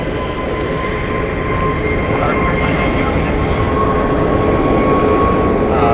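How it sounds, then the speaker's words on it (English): A Boeing 757 jet at Phoenix Sky Harbor airport roars loudly and steadily throughout with a constant engine drone and faint tonal whine, no pauses. "Boeing 757. That's a cool aircraft."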